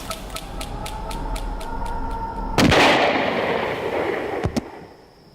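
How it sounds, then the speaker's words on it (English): A loud, close gunshot-like bang crashes in midway through a dramatized royal shooting in Nepal, followed by a rumbling decay and a second sharp crack near the end, over a faint background rhythm of ticking beats. "A single bullet to the side of his head brings Crown Prince Dipendra to the ground"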